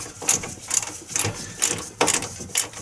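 Bolts on a front wheel bearing of a 2010 Chevy Equinox being tightened with a ratchet, giving six short bursts of metallic clicking spaced about half a second apart, close and fairly loud with no talk.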